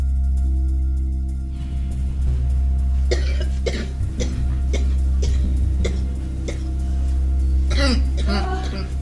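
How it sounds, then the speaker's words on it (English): Several sharp, harsh coughs come in a loose series over a steady low hum, with a couple of rougher throaty bursts near the end. "You are coughing cough."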